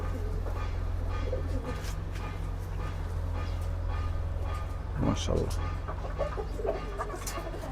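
Young home-raised pigeons in a new cage make soft cooing and clucking bird calls that come and go over a steady low hum, with people talking nearby.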